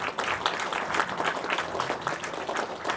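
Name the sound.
applause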